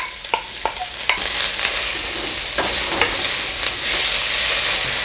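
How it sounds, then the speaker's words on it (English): Carrots tipped all at once into two tablespoons of hot vegetable oil for gimbap hiss and sizzle steadily, with a few sharp stirring clicks and scrapes near the start. No voices are heard. "now I'm going to saute this in oil"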